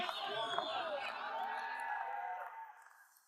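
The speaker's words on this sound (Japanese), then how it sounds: "30万人の大歓声はありませんが、それに負けない喜びの声が会場に響き渡ります" Jubilant crowd cheering and shouting at the Indianapolis 500 victory celebration for Takuma Sato's 2020 win, a dense wash of voices that holds steady and then fades toward the end.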